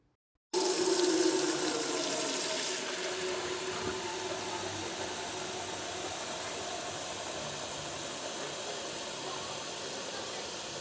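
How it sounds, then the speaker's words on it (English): Water pours steadily from a tap into a Gardyn hydroponic plant tank, a loud rushing stream that starts abruptly and then settles into a constant, slightly softer flow for about ten seconds, with no talking. "So you see me fill the water up."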